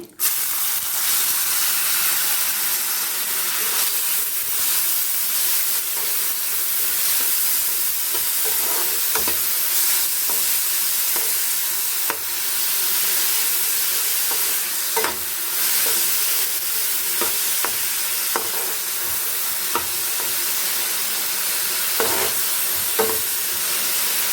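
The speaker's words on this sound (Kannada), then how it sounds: "ಇದು ಚೆನ್ನಾಗಿ ಎಣ್ಣೆಯಲ್ಲಿ ಫ್ರೈ ಆಗಬೇಕು ಇದು ಫ್ರೈ ಆಗ್ತಾ ಇರಲಿ" Chopped bilimbi fruits fry in hot oil in a tempering with crisped chillies, giving a steady, dense sizzle throughout with intermittent clatters of stirring close by; no one talks.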